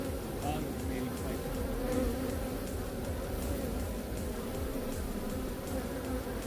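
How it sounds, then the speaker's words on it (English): Agitated bee buzzing steadily at a hive, a close, continuous drone with other insects humming around it and no one talking. "If you watch that bee and its behavior,"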